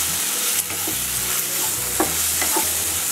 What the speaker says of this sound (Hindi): 2 मिनट तक लो फ्लेम में इस मसाले को भूनते